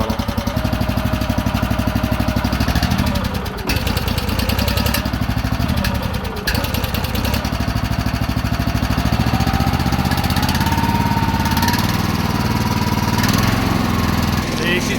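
A small engine, choked and started, runs steadily as it warms up, a loud continuous drone with brief dips in pitch, speech faintly mixed in.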